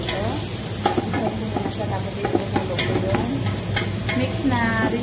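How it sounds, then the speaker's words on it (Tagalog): Garlic and onion sautéing in a pan, a steady close sizzle with frequent scraping clicks of a utensil stirring against the pan. "Igigisa ko na yung bawang sibuyas"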